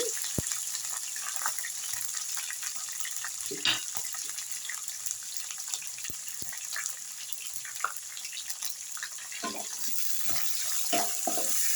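Onion, curry leaves and green chillies sizzle in hot oil for upma, making a steady, fairly soft frying hiss scattered with small pops and crackles, with no voices over it.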